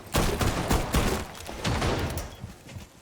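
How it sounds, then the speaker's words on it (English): Shotgun fire in the video game Rainbow Six Siege, several loud sharp blasts in quick irregular succession, the last one trailing off into quieter game ambience, with no one speaking. "Yeah, that shotgun is loud."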